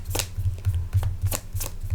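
Tarot cards shuffled close up in a brief, rapid run of papery flicks and taps, fairly loud and rhythmic, with a low hum underneath.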